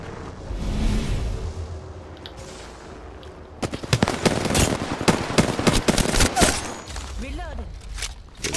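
Apex Legends gunfire: bursts of rapid automatic shots crackle loudly and close over several seconds, with whooshes and game effects around them, after a quieter stretch with talk.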